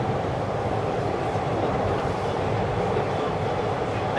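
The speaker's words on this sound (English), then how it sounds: "The new subway car? Yeah, the new subway car." Steady, loud rumble of a Toronto TTC subway train with new Toronto Rocket cars, a continuous rolling roar from the wheels and carriage noise that does not let up, with no voices.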